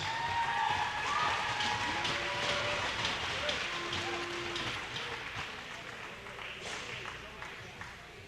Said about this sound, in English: Let's hear a great round of applause for tonight's Palmer seniors